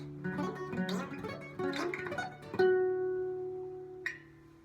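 A clean electric guitar plays quick rolling sweep-picked arpeggios, notes cascading up and down, ending on a sustained ringing chord with a final plucked note.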